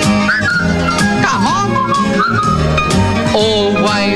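Whistling from a sung song plays with a steady musical backing, with short whistled phrases and melodic vocal lines carrying over continuous accompaniment.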